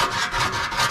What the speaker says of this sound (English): 80 grit sandpaper